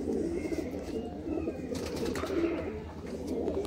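Teddy pigeons, a breeder pair, coo steadily in low, soft, continuous calls close by, with faint background rustle and no talking.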